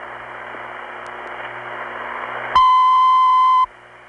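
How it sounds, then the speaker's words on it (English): A crossbar 5 tandem switch connecting to its vacant code trunk on a long-distance call into New York State's 315 area, a hissy open line followed by a loud, steady tone lasting about a second that then cuts off abruptly. "Now that's a crossbar 5 tandem connecting to its own vacant code trunk."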